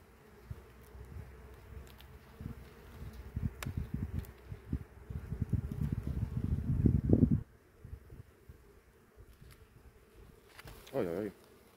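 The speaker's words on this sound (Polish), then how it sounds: "Osy widać też się pożywiają." Wasps feeding at a honeybee hive buzz close by, irregular flurries of insect wingbeats growing busier before dropping off, with a brief nearby buzz near the end.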